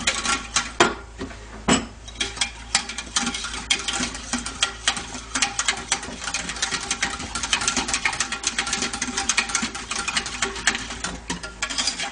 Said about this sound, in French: vous tournez toujours de façon à ce que ça fasse pas de grumeaux